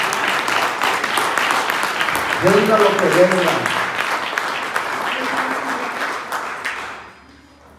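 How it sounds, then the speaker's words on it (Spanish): Church congregation applauding for the King during a sermon: a sustained wash of clapping with a voice speaking over it briefly near the start, fading out at the end. "Denle un aplauso al Rey."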